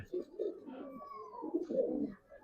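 Silver Giribaz pigeons coo softly up close, giving a few low, throaty rolling phrases in quick succession.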